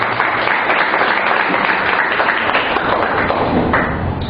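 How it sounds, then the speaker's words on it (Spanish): A church congregation claps in welcome, a loud, dense wash of applause that holds steady throughout, with occasional thumps and taps mixed in. "démosles un fuerte aplauso de bienvenida"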